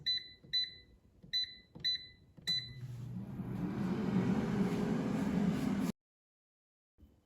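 An air fryer finishing its cooking cycle gives five short, high beeps in a row, followed by a loud whooshing fan and hum that runs for several seconds and then cuts off abruptly, close up with no talking.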